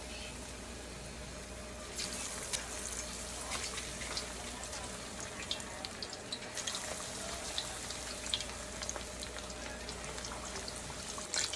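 Chicken nuggets coated in wet batter drop into a pan of hot oil and fry, a steady bright sizzle that starts about two seconds in and keeps crackling evenly to the end.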